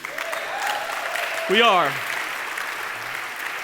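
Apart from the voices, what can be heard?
audience applause at a worship service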